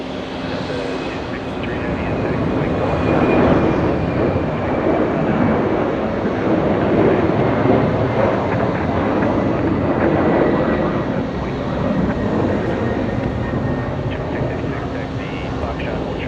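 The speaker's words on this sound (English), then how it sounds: "Jetblue 686 flying in from Raleigh, Durham, North Carolina. 1 hour, 4 minutes of flight time. Good old A320." A JetBlue Airbus A320 arriving from Raleigh-Durham lands on runway 4 right at JFK airport, a loud, sustained jet roar that swells and holds throughout, with talk over it.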